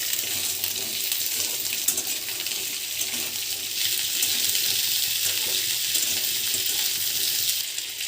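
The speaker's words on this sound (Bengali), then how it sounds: "শিমটা দিয়ে দিচ্ছি।" Flat beans go into hot mustard oil with lightly fried potato, dried red chilli and nigella seeds, making a loud, continuous hiss that builds slightly midway and tapers off toward the end.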